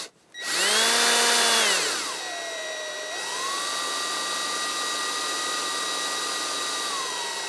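A small drill bit starts into a broken stud or bolt: the motor spins up with a loud whine, drops in pitch under load and then holds a steady hum while it cuts. Nothing else is heard.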